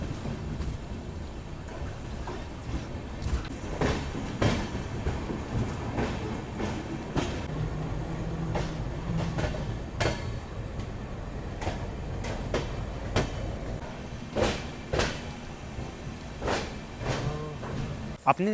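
The 15131 Varanasi Gorakhpur Express passenger train runs overnight with a continuous rolling rumble inside the coach, broken by rhythmic wheel clicks and clanks. Faint voices rise now and then.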